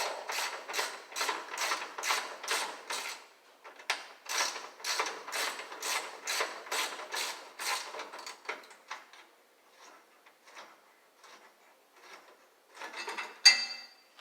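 A ratchet wrench removes a long hood bolt on a 1968 Mustang, giving bursts of quick, close metallic clicking in repeated strokes, then slower, fainter clicks as the bolt loosens.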